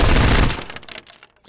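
A sustained burst of automatic gunfire from a weapon in the shooter game Road to Vostok, loud and dense for about half a second, then fading into scattered echoing tails.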